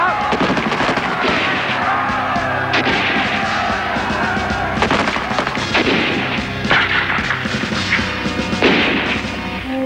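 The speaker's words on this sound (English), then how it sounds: "General Dyer, at this very place, commanded his men to open fire." Soldiers open fire with guns, loud dense volleys and booming shots crowding one another over ten seconds, a continuous heavy barrage with sharp bursts throughout.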